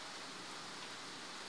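Steady rain pours down outside a house during a storm, a dense, even hiss of drops on surfaces with no breaks, moderately loud and close, with no voices.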